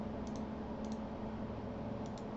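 A computer mouse clicks in quick double pairs, three times across the moment, faint and close against a steady background hum.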